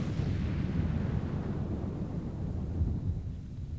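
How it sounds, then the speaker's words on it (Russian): A fiery ball exploding at the birth of the universe, a Big Bang effect: a deep, continuous rumbling roar with no sharp attack, filling the whole stretch at steady loudness with no voices. "Миллиарды лет назад этот шар взорвался."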